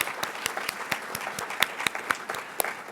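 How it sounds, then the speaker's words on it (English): Sparse applause for instructors at a literacy program graduation ceremony, a small number of distinct, evenly spaced claps standing out against a quiet room. "Let's give them a round of applause for our instructors."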